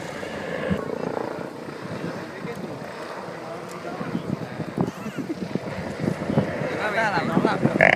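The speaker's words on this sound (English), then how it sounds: "As Chuck brings the helicopter down low" The Red Bull helicopter flies low during an air show stunt, its rotor chopping and engine roar growing louder and nearer under wind buffeting and a commentator's voice.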